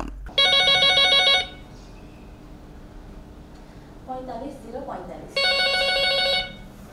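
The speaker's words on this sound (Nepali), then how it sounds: "जनताले गरेको फोन उठाउने जनशक्ति सम्म छैन" An unanswered telephone on a government public complaint line rings in two long trilling bursts, with a short stretch of muffled voice and noise between them.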